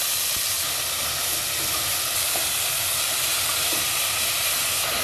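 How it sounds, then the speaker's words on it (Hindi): Chicken and garlic fry in a little oil in a pan, a loud, continuous close-up hiss and crackle with faint stirring scrapes, no voices. "ताकि बस इसमें लहसुन और जो चिकन है वो हम फ्राई कर सकें"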